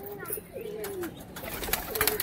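Kaldom and Giribaz flying pigeons coo in a few low, soft, drawn-out calls that overlap one another, with light rustling and clattering around them and no talk.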